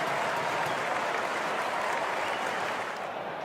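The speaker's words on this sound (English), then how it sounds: "Stand and applaud." A stadium crowd at an AFL football game, with the Lions playing, breaks into dense, steady applause and cheering. The roar is loud and sustained for the whole few seconds and eases slightly at the very end.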